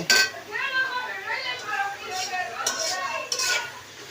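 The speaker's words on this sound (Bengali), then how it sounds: "এখন আমার গিন্নি নাড়াচাড়া করছে" Onions fry in a pan on low heat while being stirred, the clinks and scrapes of a utensil and a soft sizzle sitting under a person talking throughout.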